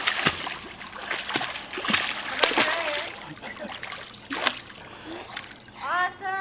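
A person jumps off a diving board into a pool, with loud close splashing and sloshing water, followed by a voice near the end.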